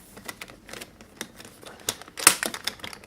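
The two clasps of an aluminium carrying case for a FrSky Taranis X9D Plus radio transmitter being unlatched. A close run of small sharp clicks and rattles builds to one louder metallic snap, with no talking.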